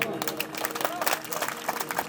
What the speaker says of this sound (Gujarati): એટલે ભાઈ તાળી તો પાડો.